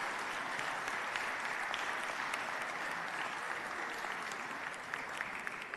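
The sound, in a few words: applause for the Harmony School group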